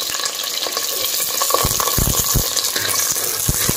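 Onions, green chilies and curry leaves fry in hot oil for a coconut-milk sardine curry, a steady close sizzle with occasional stirring clicks and scrapes throughout.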